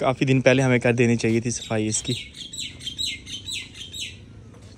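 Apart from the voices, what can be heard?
bird chirping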